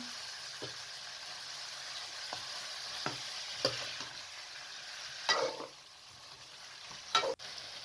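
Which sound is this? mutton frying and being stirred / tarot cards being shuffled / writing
mutton frying and being stirred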